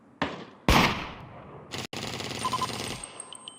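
Gunfire in the battle-royale game Ring of Elysium during a competitive match: a few sharp close shots, then a loud rapid burst and a dense volley that tails off, with faint electronic beeps near the end.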